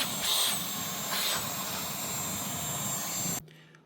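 A Dyson V12 Detect Slim cordless stick vacuum runs in eco mode with a steady, close, high-pitched whine, a couple of slight surges, then cuts off abruptly near the end.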